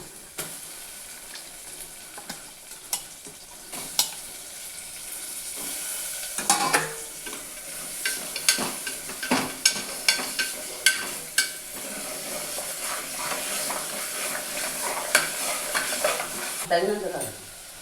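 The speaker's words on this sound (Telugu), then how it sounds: "ఇప్పుడు వేగిపోయింది మసాలా దీంట్లో మటన్ వేసేద్దాం" Mutton pieces dropped into fried spicy masala in a pan for a spicy ram curry, a constant sizzle broken by frequent close clinks and scrapes of a spoon stirring, no speech.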